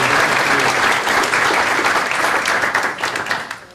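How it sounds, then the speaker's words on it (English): An audience at the 2016 Executive Ethics Symposium, Eller College of Management, breaks into loud, dense applause that stays steady for several seconds, then begins to thin and fade near the end. "How about a round of applause for everyone making it a priority and being there."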